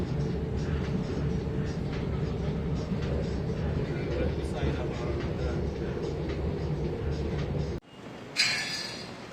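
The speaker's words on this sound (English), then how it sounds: "that train journey took approximately half an hour." Steady, loud train interior rumble on a ride into Kuala Lumpur's central station, continuous for most of the clip before cutting off abruptly near the end, followed by a brief different burst of noise.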